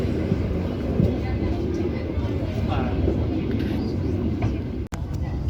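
Onboard the Tawang Alun passenger train as it pulls into Blimbing station in Indonesia, a low rumbling interior drone of wheels and carriage with faint creaks, a brief sharp knock near the end, steady and close.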